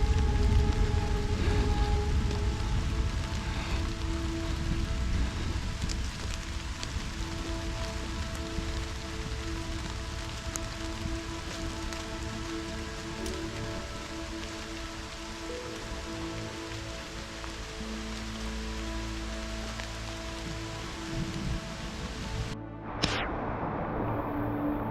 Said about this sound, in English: Thunder and rain.